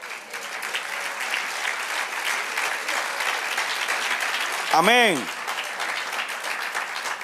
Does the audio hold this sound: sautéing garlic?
no